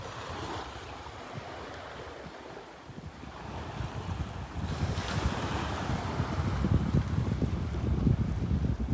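Surf rolling onto the sand at Delnor-Wiggins beach as the tide comes in, a steady wash of breaking waves that grows louder partway through, mixed with gusty wind buffeting the microphone.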